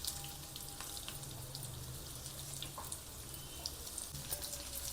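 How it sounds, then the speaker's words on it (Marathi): Stuffed okra frying in oil with curry leaves makes a faint, steady sizzle and crackle throughout, with a low hum underneath and no talking. "हे आपल्या भेंडी तेलात सोडून घेतले।"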